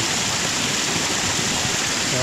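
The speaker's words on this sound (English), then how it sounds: "the more water I put in, the more it kind of like spreads out on that rock" Water pouring steadily onto a flat rock at a micro hydro intake site, spreading out into a wide flow; a continuous, loud, close rushing wash with no pauses.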